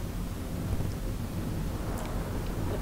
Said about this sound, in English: There's a constant lightning storm where the hot and cold air collide.